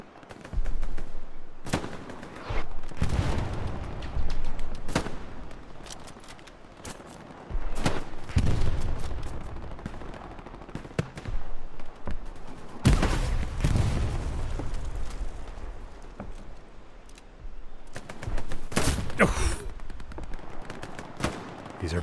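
Rapid machine-gun bursts, scattered rifle shots and heavy grenade explosions from a D-Day console shooter game battle, loud and dense in repeated clusters across the whole stretch.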